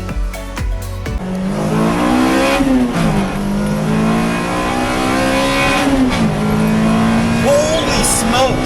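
A Toyota Celica GT-S fitted with a cold air intake accelerates hard on a highway, its engine note loud and close, climbing steadily through the revs with a brief shift dip before rising again.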